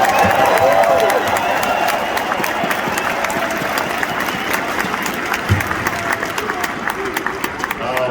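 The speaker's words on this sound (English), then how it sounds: "So please give them a round of applause, please." Arena crowd at a LeBron James pre-game ceremony in Crypto.com Arena bursts into loud applause and cheering, a dense wash of clapping that fades gradually, with brief voices in the mix.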